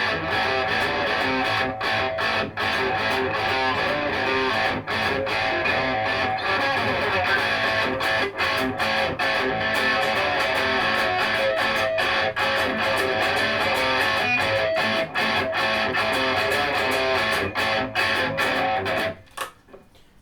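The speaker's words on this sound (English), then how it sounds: "it's set with the Blues Driver pedal on the crunch channel" Electric guitar played through a Blues Driver pedal on the crunch channel with an added octave effect, a loud, dense distorted tone sustained continuously for about twenty seconds with steady strummed attacks before stopping abruptly.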